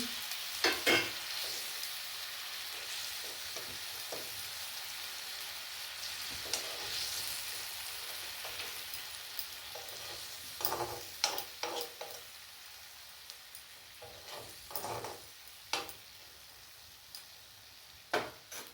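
Fish pieces fry and sizzle in a pan for a fish curry with honey leaves and satin fish, a steady hiss broken by scattered crackles and scraping stir sounds, close and alone.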